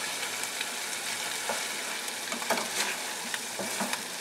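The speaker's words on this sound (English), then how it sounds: "at the very end I actually want to basically sear it real quick" Fish sizzles as it sears quickly in butter in a hot pan, giving a steady crackling hiss with small pops and stirring scrapes, close and without talk.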